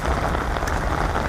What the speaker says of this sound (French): il pleut quand même pas mal